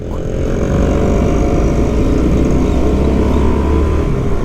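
A poorly maintained, smoky four-stroke motorcycle engine runs close and loud in a continuous rough, low drone, with no talk over it.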